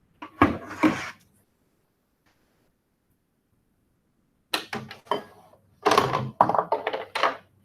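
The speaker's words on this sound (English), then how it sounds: "That oven's like popping." An oven pops while heating during a biscuit demo: a quick pair of sharp pops, several seconds of near silence, then a denser cluster of close, crackling pops.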